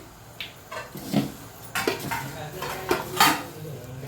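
Kheer ingredients with jaggery, dry ginger, fennel and grated coconut being mixed in a pot, giving a series of metal spoon scrapes and clinks against the pot at an irregular rhythm, fairly close, with faint voices in the background.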